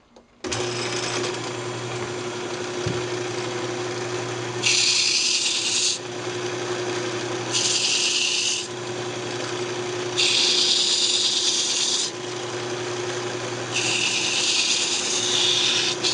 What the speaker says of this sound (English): I'll just go ahead and sand it up